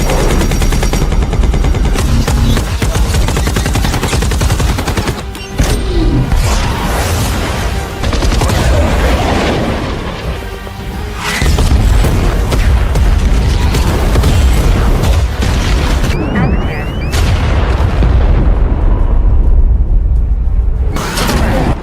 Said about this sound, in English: The Hornet drops its ammunition close to Kinney to kill the attackers and flies away.